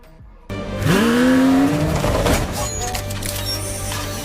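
Mercedes-AMG One hypercar in Forza Horizon 5 bursts in loud after a short quiet, engine note sweeping sharply upward in pitch as it accelerates, then settling into a sustained roar with faint tire squeal.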